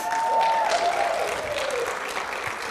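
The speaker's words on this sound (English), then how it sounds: "Stephanie Green, go ahead and clap for her." An audience at a 2018 EDGE Team regional training event claps, a dense, steady wash of applause that continues throughout, with a voice briefly audible over it at the start.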